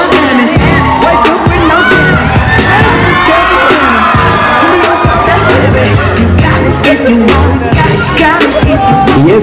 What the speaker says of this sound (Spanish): Y ese grito de las chicas.